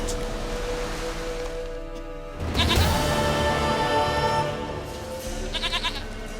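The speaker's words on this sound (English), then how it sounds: "Goat of mine, dearest," In The Witcher 3 video game, a goat gives a long, wavering bleat up close after a quiet lead-in, followed by shorter bleating bursts near the end.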